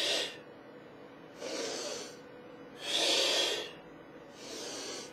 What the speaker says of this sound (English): I'm going to exhale on the way down